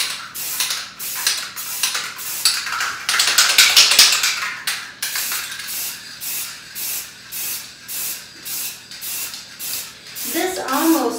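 Rust-Oleum frosted clear spray paint hissing from an aerosol can onto pantry doors, a long loud burst followed by a steady series of short rhythmic spray pulses, close to the microphone.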